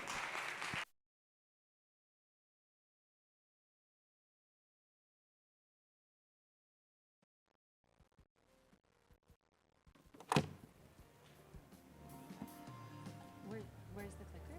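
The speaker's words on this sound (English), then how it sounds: "let's give her a big round of applause," After a long silence, an audience at a payments conference breaks into applause for a keynote speaker on stablecoin adoption. It is a short, moderate burst of clapping near the end, mixed with some background noise.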